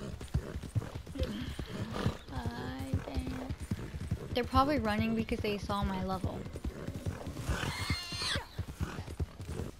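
Galloping horse hooves and repeated neighing in Red Dead Redemption 2, rhythmic clip-clop throughout with loud whinnies rising mid-way and near the end, under a player's excited talk.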